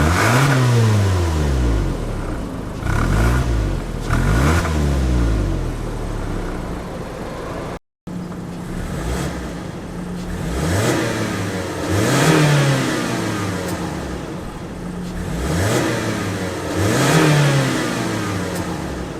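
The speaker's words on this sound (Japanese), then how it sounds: "まずは車内でのエンジン音を出します。" Inside a Mazda2 (DJ) with the high-compression P5-VPS petrol engine, the motor revs up repeatedly in rising sweeps, dropping back between pulls, with a steady droning cabin tone and a brief cut midway.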